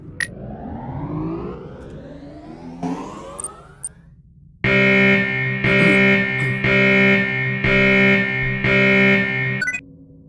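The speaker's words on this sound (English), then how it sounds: "Missile has been armed, the alarm has been sounded, and there we go." A rising electronic whine gives way to a loud, pulsing missile launch buzzer alarm in a video game that repeats in steady bursts, with synthetic game-style tones and no voices.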